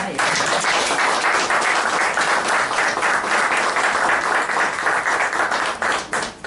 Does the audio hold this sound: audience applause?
yes